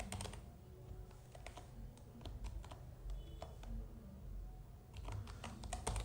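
Typing Python code on a computer keyboard: a steady run of quick key clicks in irregular bursts, fairly close, with no talking.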